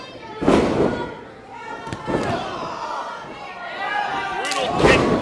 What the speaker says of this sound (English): Brutal kick to the back and then an enziguri.